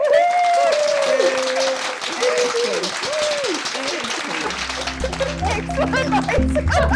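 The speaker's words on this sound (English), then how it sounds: "let's give Gwen a big round of applause" An online comedy show audience claps over video call microphones, scattered mixed clapping with voices and whistle-like tones layered in, loud throughout before a low rumbling hum rises in the final seconds.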